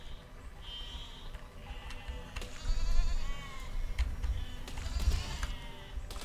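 Sheep bleat repeatedly in the medieval siege-building game Besiege, several wavering cries near and far over soft clicking and rumbling game sounds, with no speech.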